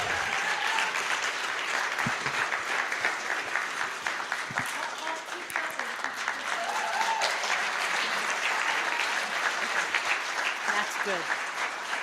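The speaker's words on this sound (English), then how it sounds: "let's clap for Laura" Audience at a synagogue storytelling event claps steadily for the next storyteller coming to the microphone; dense, continuous applause fills the room with a brief spoken remark over it.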